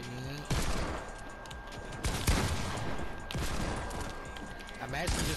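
Rapid gunfire bursts from the video game Fortnite, including pump shotgun and Deagle pistol shots, crackle loudly and almost continuously for several seconds, mixed with game effects and talk.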